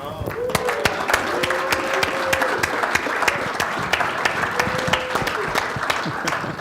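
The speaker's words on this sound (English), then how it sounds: "Big round of applause, Hans van der Maal." A conference audience at a bakery industry panel breaks into steady, dense applause welcoming a guest onstage, with brief speech at the start and sharp individual claps standing out throughout.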